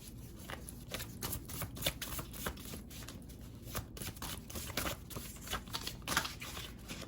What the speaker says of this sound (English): Shuffling them is so weird because they're just very active